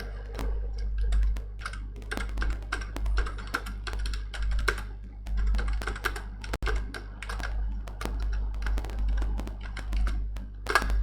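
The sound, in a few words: typing code on a computer keyboard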